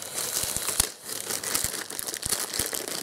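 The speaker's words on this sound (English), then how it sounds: "Let me remove the plastic." Plastic wrapping crinkles and tears as it is pulled off a Komplete Audio 6 audio interface, close up and continuous with sharp crackling bursts, no talking.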